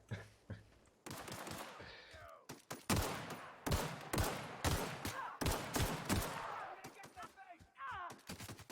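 Gunfire crackles in a firefight against marauders in The Outer Worlds, with repeated sharp shots and bursts in an irregular rhythm, some overlapping, loud and close throughout.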